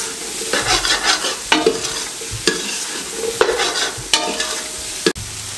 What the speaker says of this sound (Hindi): 30 से 40 सेकंड के लिए इसको अच्छे तरीके से इसको भी साथ में फ्राई कर दें